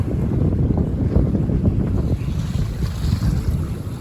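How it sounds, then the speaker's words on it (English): Wind roars across the microphone aboard a small 20-foot trailer sailer crossing the North Sea, a steady loud gusty rumble mixed with the wash of waves and no voices. "The wind's picked up."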